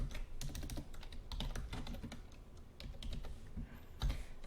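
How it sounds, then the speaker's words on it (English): Python code being typed on a computer keyboard: a quick, uneven patter of close key clicks with a heavier thump near the end and no voice. "So for this, we just need to type"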